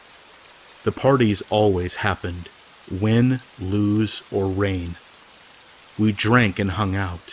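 Soft, steady rainfall runs as a quiet background wash beneath someone narrating a scary story, the talk clearly dominating.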